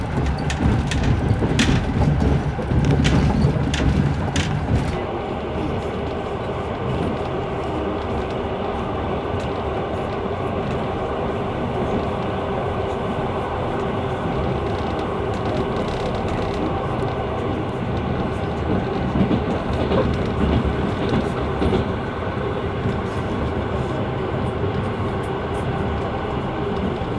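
Passenger train No. 360 from Sochi to Kaliningrad rolling on rails, heard from inside: a steady, loud rumble of wheels and carriage, with rhythmic clatter in the first seconds and a continuous hum after.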